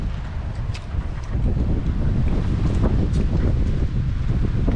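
Strong wind blows at an island shore, a loud continuous rumbling buffet against the microphone that swells and stays heavy throughout.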